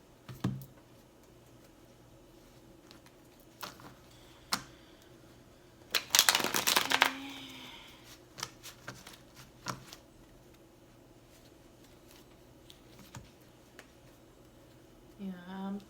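A brief riffle of shuffled tarot cards in the middle, surrounded by scattered light taps and clicks in a quiet room.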